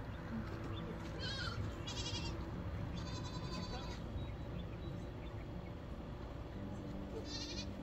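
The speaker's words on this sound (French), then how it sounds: "Tous les matins, on a des petites biquettes qui passent. On a les chèvres." Goats bleat on a Moroccan mountainside in several short bursts, fairly faint over steady outdoor background noise.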